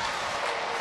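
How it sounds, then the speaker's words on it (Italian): Crowd applause and cheering fill the arena at an evening basketball game in Benevento, a steady dense roar of clapping with no break across the brief moment. "Applausi che sentite in sottofondo"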